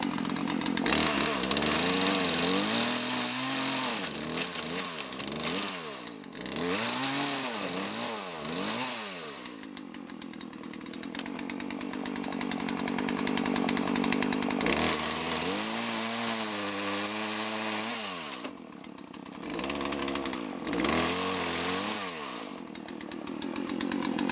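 A chainsaw trims alligator juniper wood, its engine revving up and down repeatedly in loud close bursts, with a steady high idle between cuts and a short dip in the middle.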